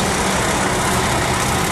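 A 1.6 litre four-cylinder petrol car engine idles close by, a dense, steady hum without change or talk over it.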